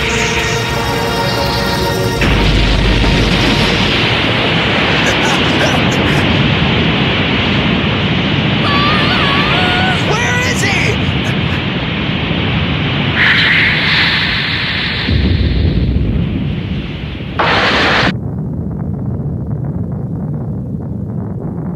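In the Yu Yu Hakusho anime's Dark Tournament fight, a bomb attack erupts into a loud, sustained roaring blast with rushing noise that keeps surging for many seconds.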